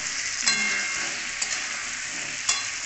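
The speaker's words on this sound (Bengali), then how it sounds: "এবার আমি নুন হলুদটা দিয়ে একটু হালকা ভেজে নেবো আলুটাকে।" Potato pieces fry lightly in a pan with salt and turmeric, a continuous bright sizzle broken by a few sharp stirring scrapes, close and alone without voices.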